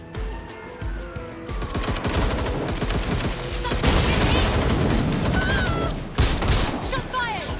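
Rapid bursts of gunfire and heavy shooting fill a Watch Dogs: Legion firefight, loud and continuous with mechanical clatter, while voices speak over the action.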